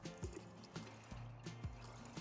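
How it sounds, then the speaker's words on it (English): PowerFeed liquid fertiliser for tomatoes and vegetables is swirled and mixed in a watering can, giving soft, repeated sloshing and dripping water sounds in an uneven rhythm, quiet and close. "You mix it in a watering can"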